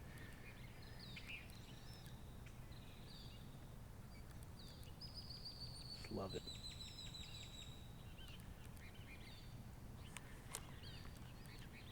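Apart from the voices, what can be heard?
raucous birds calling in trees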